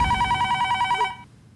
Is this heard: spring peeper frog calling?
no